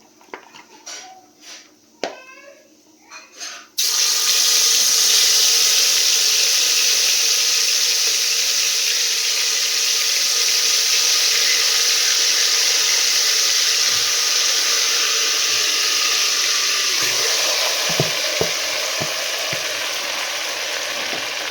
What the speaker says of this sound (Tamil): இதை வந்து நல்லா எண்ணெயிலேயே நல்லா வதக்கணும்